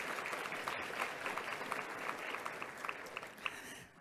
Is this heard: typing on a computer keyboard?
no